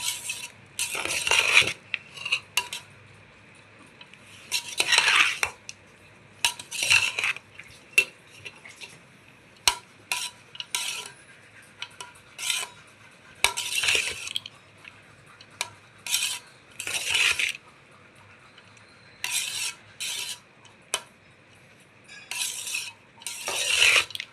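A spoon stirs and mixes pulihara, tamarind rice, in a metal pot, giving repeated bursts of scraping and clinking separated by short quiet gaps, close and fairly loud with no talking.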